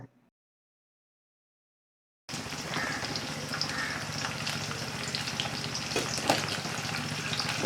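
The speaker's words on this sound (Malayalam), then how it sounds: "മീൻ ഇട്ടതിന് ശേഷം സ്റ്റവ് ഒരു ലോ മീഡിയം ഫ്ലെയിമിൽ വെച്ച് വേണം വറുത്തെടുക്കാനായിട്ട്" Anchovies frying in a pan of oil over a low-medium flame, a dense steady sizzle and crackle starting abruptly after two seconds of silence and continuing loudly to the end, with no talking.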